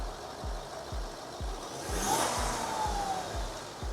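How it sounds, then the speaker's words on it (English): A £600 luxury 4x4 engine ticking over with a regular low thudding beat, then revved once into a rising, louder whine before settling back to idle. "Give it a little revy rev."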